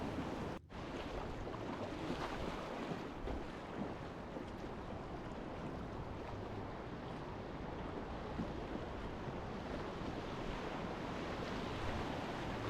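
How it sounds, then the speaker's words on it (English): Big standing waves on a staircase rapid of a desert river running at flood stage, a steady broadband roar of rushing whitewater with wind buffeting the microphone, loud and continuous throughout with no voices. "This isn't named, but it's a staircase rapid"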